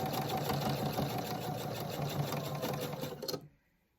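A sewing machine stitches pillow seams in a steady, continuous whir that runs loud and close for about three and a half seconds, then stops abruptly into near silence.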